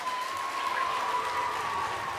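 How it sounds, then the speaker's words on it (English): A fifth-grade concert audience applauds the flute players with soft, steady clapping, faint and somewhat distant, while a thin sustained tone lingers beneath. "How about a round of applause for our wonderful flutes?"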